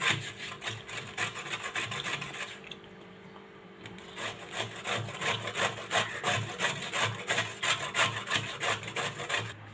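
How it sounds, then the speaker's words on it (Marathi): Bottle gourd is rubbed against a coarse grater in steady, rhythmic rasping strokes close up, with a brief pause partway through before the scraping resumes. "मोठ्या किसणीवर दुधी किसून घ्यायचे"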